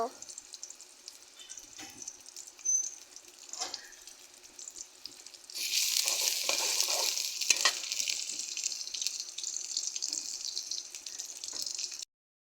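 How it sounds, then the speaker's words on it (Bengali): Food frying in a pan while being stirred, a quiet sizzle and occasional spoon scrapes at first, then a louder, dense hiss surging up midway and holding steady until it cuts off. "একটু নেড়ে চেড়ে নিচ্ছি"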